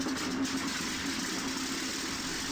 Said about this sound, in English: I'm in a 4-engine bomber, the Lancaster 3, and I'm just going to wait until all 4 engines are started.